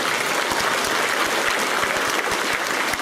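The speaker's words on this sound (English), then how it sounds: "let's give them another great big clap" Pupils and staff clapping at a school celebration assembly, a loud, dense and continuous round of applause from a large audience with a few sharper individual claps standing out, and no speech.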